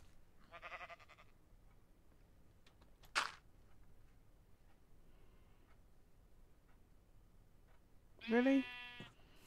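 Sheep bleating in the video game Minecraft: a short bleat near the start and a louder, closer bleat near the end, with a brief sharp tick between and a voice speaking briefly.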